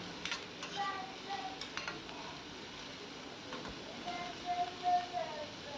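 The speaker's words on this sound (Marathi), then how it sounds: "त्यानंतर मी इथे घालते आहे बारीक चिरलेला कांदा." Finely chopped onion goes into a pan for a mushroom dish and is stirred, giving faint scraping and light sizzling at low volume under a woman's speech.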